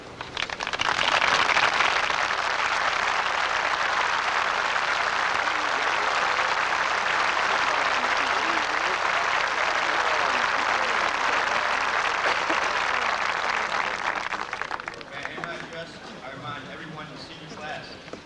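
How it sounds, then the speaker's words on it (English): Loud, sustained applause from a large crowd at a 1994 graduation ceremony fills the space for a long stretch, then thins out and fades toward the end. "please stand and give applause to the graduating class of 1994"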